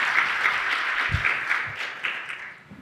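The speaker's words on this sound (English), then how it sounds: "if we could maybe give a round of applause to our wonderful welcome back." An audience at a SXSW 2024 panel claps in a brief burst of applause that fades out after a couple of seconds.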